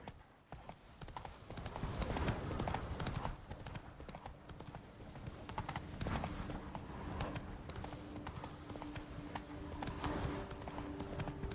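Hooves of Roach, Geralt's horse in The Witcher 3's Blood and Wine, pound in a fast continuous gallop, loud and close, layered over game music and ambient noise.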